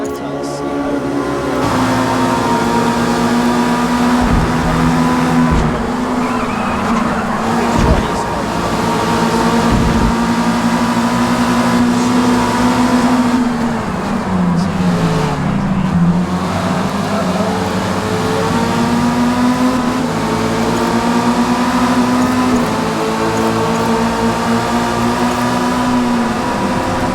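A Mazda MX-5 racing a lap at Hockenheim, its engine droning steadily at high revs with pitch rising and falling through gear changes and corners, loud and continuous throughout.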